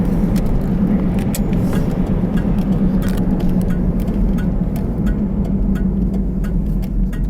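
An Oldsmobile Cutlass Cruiser station wagon with 16,000 original miles accelerating on a test drive, its engine a steady, loud low droning hum heard from inside the cabin, with faint ticking above and no talk.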